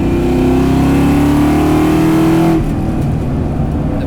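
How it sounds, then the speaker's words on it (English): The exhaust of a supercharged 2004 Mustang Cobra roars loud and close, climbing in pitch as the engine revs for a few seconds, then cutting back to a lower rumble. "Like it's a super loud car."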